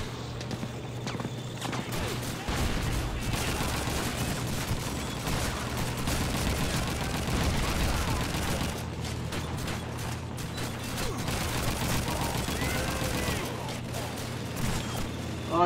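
Gunfire and battle noise in the World War II shooter Call of Duty 2 during the fight for Hill 400, a dense continuous clatter of rifle and automatic fire with mechanical clicks, under occasional voices.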